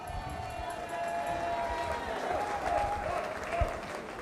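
Thunderous applause from a festival crowd at a song contest honors an act, a dense steady roar of clapping with some cheering and music lingering faintly underneath.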